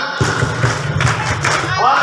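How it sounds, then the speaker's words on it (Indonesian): Students at an Islamic boarding school clap together, a loud, dense burst of group clapping lasting about two seconds with voices mixed in. "Tepuk semua."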